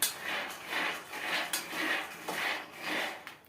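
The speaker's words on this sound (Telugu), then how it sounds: "స్టవ్ ఆన్ చేసుకొని పల్లీలు పోసేసుకుంటున్నాను ఇందులో పల్లీలు వేయించుకుంటున్నాను" Peanuts roasting in a pan on the stove, stirred in steady repeated strokes: a rhythmic rattling scrape of nuts against metal rises and falls about five times, close and clear, with no talking.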